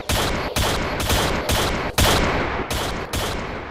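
Rapid bursts of gunfire in a Roblox shooter game, a loud run of about eight sharp shots in a steady, fast rhythm with short gaps between them.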